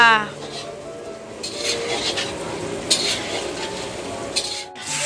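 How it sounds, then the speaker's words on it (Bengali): Potatoes for a meat curry frying in a pan at home, with a steady low sizzle, occasional utensil scrapes and stirring clatter, and a few brief louder knocks, with faint voices in the background. "প্রথমে আমি আলু ভাজছি মাংসর আলু"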